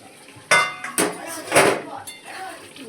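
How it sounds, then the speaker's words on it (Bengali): A utensil scrapes and clinks against a pan while fish curry masala is stirred, in a few sharp metallic strokes at close range. "এবার আর একবার নেড়ে দেবো মশলাটা, নাহলে লেগে যাবে তলায়।"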